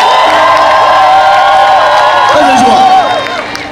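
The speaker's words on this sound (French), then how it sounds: "Est-ce que tu peux pousser les cris de joie pour ça?" Congregation at a church service shouting cries of joy, a loud mass of overlapping cheering voices and whoops that swells and then tails off near the end.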